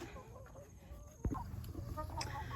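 Chickens cluck and murmur faintly at a rural home after being let out, their soft calls scattered through a low background with a sharp knock partway through.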